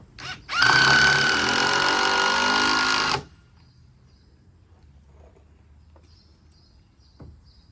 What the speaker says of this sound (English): we're only going to put a couple screws in this to attach it